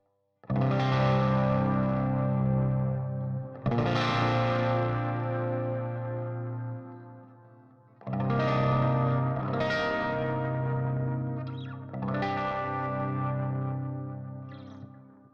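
Clean chords strummed on a 1981 Gordon Smith electric guitar through its Alnico bridge pickup with light delay, four ringing strums that each decay slowly with echo and shimmer, played alone.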